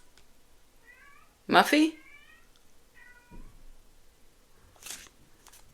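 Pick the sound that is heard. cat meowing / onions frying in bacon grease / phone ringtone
cat meowing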